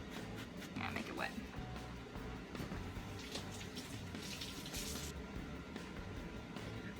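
A sponge is soaked under a running tap, steady gushing water splashing at low volume throughout, while people talk over it.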